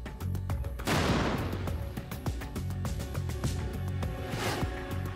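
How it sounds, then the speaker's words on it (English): A heavy shaped-charge explosive blast bursts out near the start in a test against Merkava Mk 4 tank armor, followed by rumbling reverberation and a second strong boom later, set against steady background noise. "There was a huge release of energy in both those two explosions."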